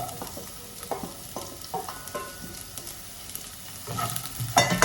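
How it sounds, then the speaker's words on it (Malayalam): Onion sautéing in oil in a pan, a gentle sizzle broken by repeated spatula scrapes and taps, growing louder toward the end, with no talk. "അപ്പോൾ അത് നമ്മളൊന്ന് ഈ എണ്ണയിൽ നന്നായിട്ടൊന്ന് വഴറ്റിയെടുക്കുക"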